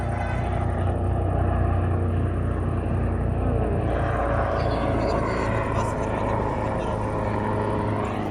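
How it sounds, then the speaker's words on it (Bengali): A helicopter flies over Rome, a continuous loud rotor and engine drone filling the scene with a steady broadband roar, heard under city ambience. "এই যে হেলিকপ্টার যাচ্ছে"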